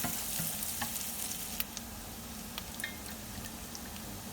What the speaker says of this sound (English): Then add the sliced chilies, scallions, garlic, and ginger. Reduce to medium heat and stir-fry quickly.